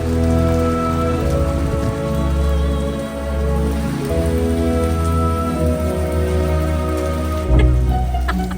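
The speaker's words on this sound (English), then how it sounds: "the rain was so horrendous" Heavy rain pouring down in Porto, Portugal, a loud, dense, continuous patter on surfaces close by, with no voices.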